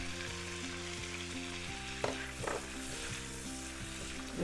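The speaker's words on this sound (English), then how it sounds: "We are going to get our shrimps into the pan." Washed, deveined shrimp sizzle steadily in a hot pan for seafood fried rice, with a few soft scraping knocks from stirring breaking through the continuous frying hiss.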